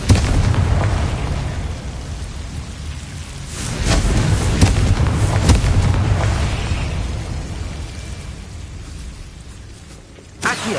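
Confringo blasting spell fired in Hogwarts Legacy, a loud booming burst followed by a rolling rumble, a second sharp blast near the middle and a brief pop at the end, with no talk over it.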